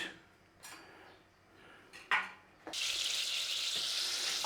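Butter melting in a pan over a moderate gas flame, a few quiet clicks and clatters at first, then a bright steady sizzle that starts suddenly and holds loud to the end, with no voices.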